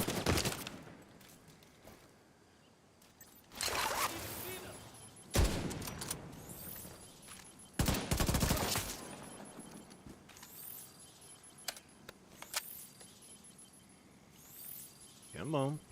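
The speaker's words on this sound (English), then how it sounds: "Can you please stop shooting at me?" Gunfire in a video game comes in several sharp, loud bursts spaced a few seconds apart, with a steady background hum and a voice speaking between the shots.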